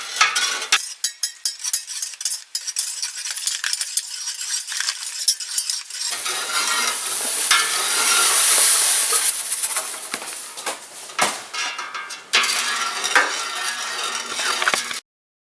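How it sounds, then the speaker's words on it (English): A spoon stirs sugar into a banana wine mixture until it dissolves, giving repeated clinks and scrapes against the container with swishing liquid, loud and close, in irregular bursts with a smoother stretch in the middle. "you want to kind of slowly add your sugar, stirring. Make sure it's all dissolved in there"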